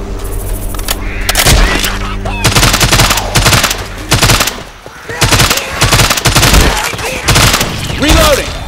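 Heavy automatic gunfire from a zombie shooter, Left 4 Dead 2, mowing down mudmen in dense overlapping bursts, loud and close, with occasional pauses and chaotic background game sounds.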